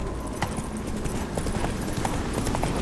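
Roach, Geralt's horse in The Witcher 3, gallops in a fast, even clip-clop of hooves, close and steady with no talk over it.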